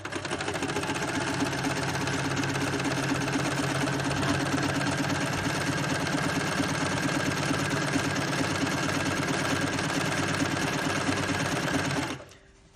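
Sewing machine stitching the corners of a fabric gift bag, a steady fast mechanical whirr with rapid needle chatter running nonstop for about twelve seconds before cutting off abruptly, close and loud.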